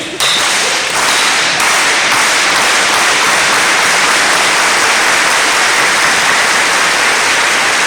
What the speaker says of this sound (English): So I want the gym to get a slow clap going because we just graduated.